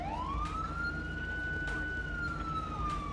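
Police car siren from a GTA 5 police ELS lighting mod, a single long rising-and-falling wail, fairly faint over a low rumbling background.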